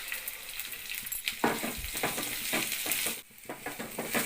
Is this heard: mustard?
yes